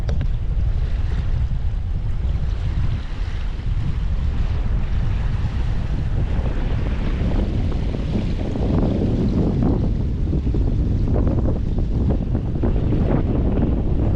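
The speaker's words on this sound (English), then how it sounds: "But it's windy and it's pretty cold." Strong, cold wind roars and buffets the microphone continuously at a campsite, with a low rumble and gusty swells throughout, and no voices.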